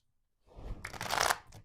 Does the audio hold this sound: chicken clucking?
no